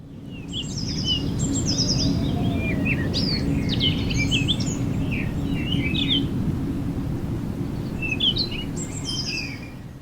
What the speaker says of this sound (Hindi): छोटी छोटी चिड़ियां पहले बोलती हैं, क्योंकि उनके लिए सुबह जिंदा रहना।